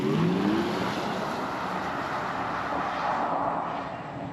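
A 2025 Porsche Macan Turbo EV accelerating hard without gear changes, heard as a steady, fairly subdued roar of road and wind noise with a faint rising whine at the start.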